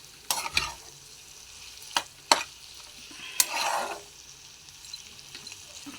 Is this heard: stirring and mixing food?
yes